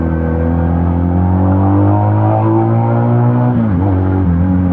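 A Benelli Patagonian Eagle 250 motorcycle engine revs loudly and close up, a steady deep harmonic drone with gentle rises and a brief dip near the end, heard alone.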